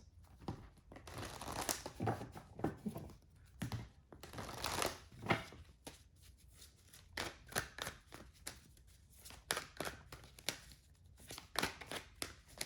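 Tarot cards are shuffled in a quiet indoor reading, giving soft repeated riffling and papery flutters in irregular bursts, close but faint, with no talking.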